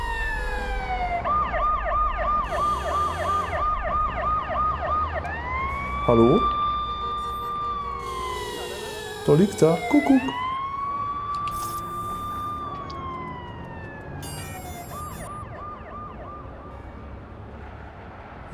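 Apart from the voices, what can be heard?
ambulance siren in a video game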